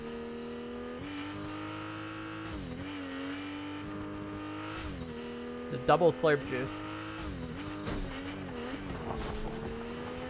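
A car drives in Fortnite Zero Build, its steady engine drone running throughout with a brief burst of revving or skidding midway, all under continuous talk from a player.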